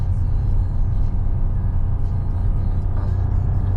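A small-engine car labours up a steep, continuously climbing mountain road in low gear, a steady close low rumble of engine and road noise throughout with no talk.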